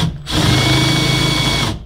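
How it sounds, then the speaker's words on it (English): A power drill with a 3/8 bit whirs up loudly boring out a hole in a Ski-Doo ski, running steadily at close range before winding down. "we're going to take a 3/8 drill bit, and we're just going to hog this hole out a bit"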